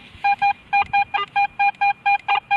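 Garrett AT Pro metal detector giving a choppy target tone, a rapid series of about twelve short, bright beeps in uneven rhythm, close and loud over faint background noise.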